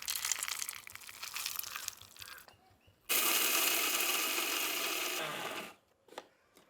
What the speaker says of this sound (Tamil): நட்ஸும் பாருங்க ரொம்ப நைஸாக அரைக்க வேணாங்க